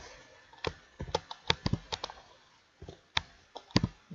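Fingers type on a computer keyboard in quick, uneven bursts of sharp, close clicks with short pauses between them, and no one speaks.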